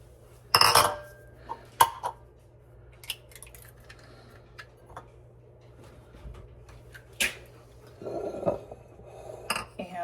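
Four eggs are cracked into a bowl for a from-scratch custard pie: a handful of sharp shell taps and clinks against the bowl, spaced apart with quiet kitchen stillness between them.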